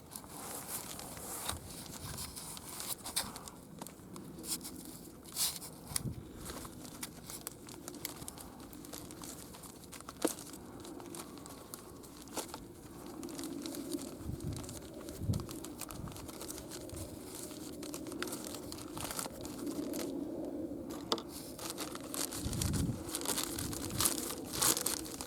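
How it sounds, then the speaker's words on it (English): Wrapping comes off a Costco rose bush with steady close crinkling, crumpling and tearing of paper that lasts throughout and carries no talk. "I'll take the wrapping off."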